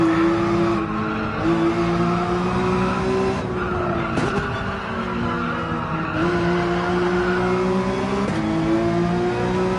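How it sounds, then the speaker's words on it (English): A car in Gran Turismo 7 on Highway 1, tires pushed hard, squeals and skids through repeated corners while the engine drones in steady tones that dip and recover between shifts, loud and continuous with no talk. "Pushing the tires hard now."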